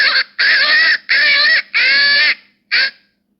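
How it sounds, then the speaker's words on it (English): A crow death cry played from the iHunt phone game call app: four loud, harsh, drawn-out caws in quick succession, then a short final squawk, each distinct with brief silences between. "Crow death cry."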